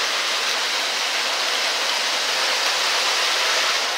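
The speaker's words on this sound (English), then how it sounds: "It's pouring like crazy." Heavy rain pouring down as a dense, even hiss, loud and continuous, with no breaks and no other sounds standing out.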